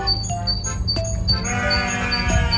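Sheep bleat nearby, several overlapping wavering calls in quick succession, with faint chirping in the background.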